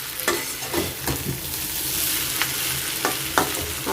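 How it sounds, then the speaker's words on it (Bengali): Potatoes and fish roe fry and get stirred in a pan, with a steady sizzle and a few scraping taps of the spatula. The sound stays close and even, and no one speaks. "এখন জাস্ট পানি দিয়ে দিব।"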